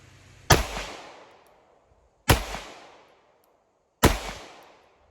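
Three sharp pistol shots from an FN 509 Tactical fired at a target, evenly spaced about two seconds apart, each a loud close crack with a short decaying echo and no talking.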